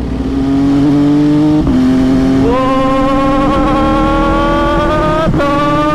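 An MV Agusta F3 800 motorcycle revs hard at high RPM, its loud, close engine note climbing steadily with brief dips at the gear shifts.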